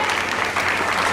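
Loud burst of audience clapping at a Mother's Day prize giving, dense and continuous through a short moment.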